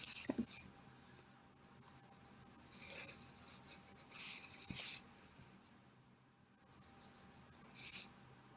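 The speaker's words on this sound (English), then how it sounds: "I gotta erase that." A rubber eraser scrubbing out a pencil line on paper, giving soft dry rasping strokes in short bursts close to the mic, with quiet pauses between them.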